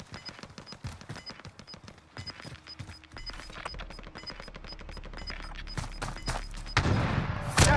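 Gunfire rattles through a Call of Duty: Warzone match, with rapid bursts and single shots cracking in quick succession, some near and some distant, building to a louder burst at the end; no one talks over it.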